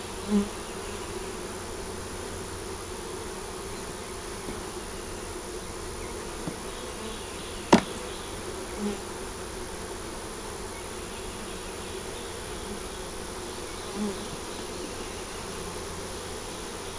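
Bees buzzing steadily in an open hive during an inspection a month after setup, a continuous low drone that stays fairly quiet throughout, with a few faint knocks and one sharp click partway through.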